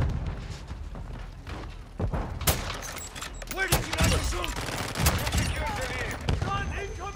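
Rapid bursts of automatic gunfire and single shots crack through a Call of Duty Modern Warfare II match, dense and loud, with a player talking over the shooting.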